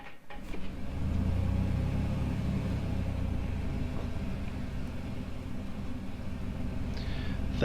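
A Piper Comanche piston engine idles in the A2A flight simulator, a steady low rumbling drone that holds constant after a brief start, with no talking over it.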